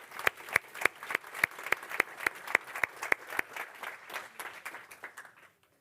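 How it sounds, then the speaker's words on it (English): A small conference audience claps in distinct, regular claps, fairly faint and slowing before ending in silence. "Another round of applause."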